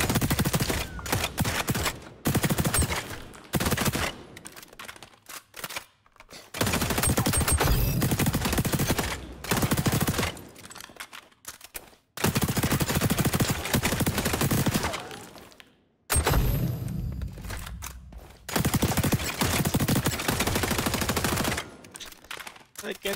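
Gunfire from the video game XDefiant comes in repeated loud automatic bursts, dense and continuous for long stretches with brief gaps between volleys. Game effects and occasional speech are mixed in.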